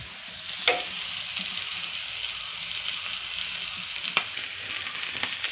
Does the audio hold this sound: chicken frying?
yes